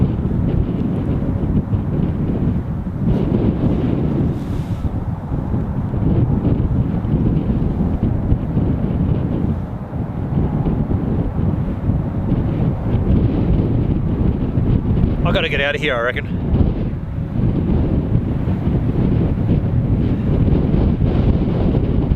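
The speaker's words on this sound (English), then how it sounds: "How bad is that wind sound?" Strong wind buffets the microphone throughout at Queenstown Airport, a constant loud rumbling roar with gusty swells, while someone talks over it.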